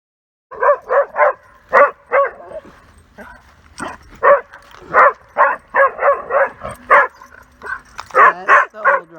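A fearful dog named Riley barks repeatedly in loud, close, rapid bursts, with some yips and whimpers mixed into the frantic sequence.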